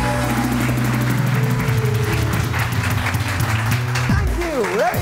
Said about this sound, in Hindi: तो फिर जोर से तालियां बजेंगी